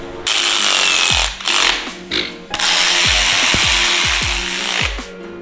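A power tool drives bolts into a rotary engine in loud sustained bursts, with repeated sharp impacts and brief pauses as each bolt is brought down to torque spec.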